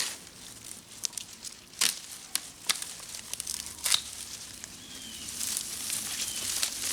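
A plastic bag holding harvested garden seeds rustles and crinkles close by in irregular bursts, with sharp crackles scattered among quieter stretches.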